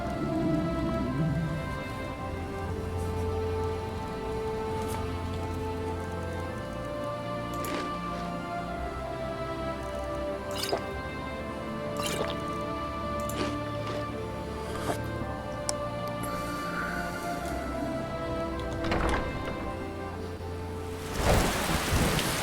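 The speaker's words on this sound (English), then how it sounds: "Let's wait 4 hours and see if the rain passes." Rain and a thunderstorm in the video game Skyrim: a steady wash of falling rain with several sharp thunder cracks and rumbles scattered through it, and a louder burst near the end. No voices.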